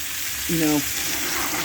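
T-bone steak frying in a pan gives a steady, fairly loud sizzle throughout, with a short voice sound partway through.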